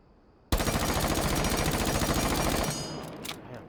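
An MP5 with a muzzle brake fires in burst mode in Rainbow Six Siege, a loud, rapid run of shots lasting about two seconds, then a fading tail and a few quieter clicks.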